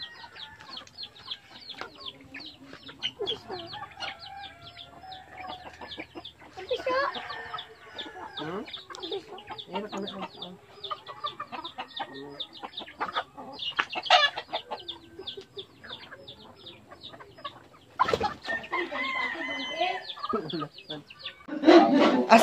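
Chickens cluck in quick, scattered bursts, close and fairly loud, with occasional sharper squawks and a rising flurry near the end, while people talk intermittently nearby.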